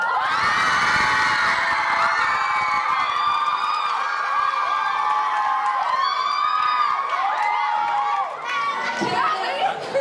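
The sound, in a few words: children shouting and cheering for a school team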